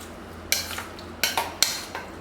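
Cut warm ingredients are tossed into a dressing in a bowl, with a few distinct utensil clinks and scrapes against the dish over a quiet background.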